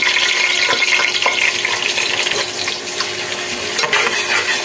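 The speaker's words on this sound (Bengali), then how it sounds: "এবার দিচ্ছি পেঁয়াজ কুচি" Chopped onions fry in oil in a pot with cardamom, cinnamon and bay leaf, a loud steady sizzle with scraping stirs and light clinks throughout.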